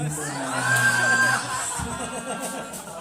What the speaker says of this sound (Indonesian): Tepuk tangan dulu dong buat Dina.